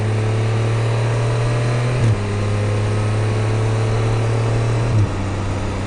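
A Can-Am Spyder three-wheel motorcycle engine runs steadily while riding on a hot morning, a constant drone with two brief pitch shifts like gear changes; no talking.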